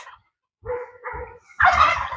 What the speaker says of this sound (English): There's turkey. Being a turkey.